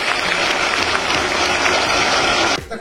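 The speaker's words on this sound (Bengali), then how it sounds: "একটা জোরে হাততালি হতে পারে তোমাদের জন্য।" A crowd of fans claps loudly and densely at a film promotion event for Dhumketu with actors Dev and Subhashree, the sustained applause filling about two and a half seconds before cutting off.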